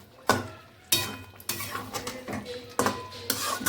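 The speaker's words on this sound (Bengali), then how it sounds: "মাংসটা এই যে কষানো চলছে" Meat being sautéed and stirred in a pot over lowered heat, heard as repeated sharp clatters of a spoon against the pot with a soft sizzle underneath, close and fairly loud.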